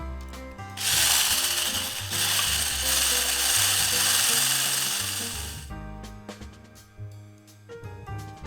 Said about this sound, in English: Combine sugar with whipping cream and whisk it.